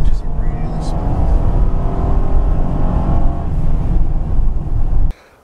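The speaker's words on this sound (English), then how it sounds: "Let's see how this gear changes really smooth." A 2014 Honda Pilot AWD accelerates hard through gear changes, a steady loud engine drone heard from inside the cabin that rises and holds for about five seconds before cutting off abruptly.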